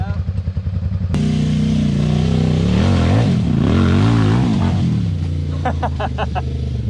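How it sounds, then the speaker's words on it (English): A small mini rock crawler's engine revs hard and labors over rocks, a loud, close rumbling drone with rising and falling pitch, clattering at the end. "You throttle that thing and you can get over anything."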